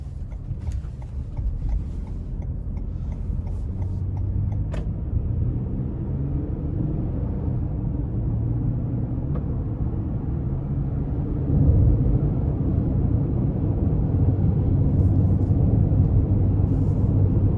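A 2021 Toyota Highlander XSE cruising on the road, heard from inside the cabin as a steady low engine and road rumble with tyre noise. A few faint clicks sound early on.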